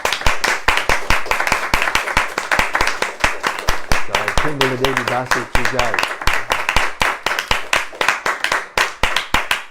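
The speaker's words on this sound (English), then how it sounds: "We clap after every chapter's over" Steady rhythmic clapping from a religious lecture audience after a scripture chapter reading, sharp and fast throughout, with a voice briefly calling out over the applause partway through.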